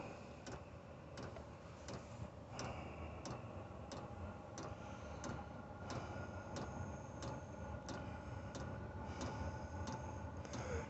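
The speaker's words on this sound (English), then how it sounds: "There's the ticking of the fuel pump." Steady, regular ticking from the fuel pump of a Chinese diesel heater fitted to a 1970 Volkswagen Beetle, sharp clicks repeating at an even pace for the whole stretch over a low background hum, with no talking.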